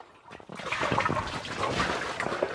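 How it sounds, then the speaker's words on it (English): Water sloshes and churns inside a heavy 18-pound aqua bag held at chest height during a plyometric workout, with a rolling, continuous slosh that swells after a short quiet start. "You can hear that water."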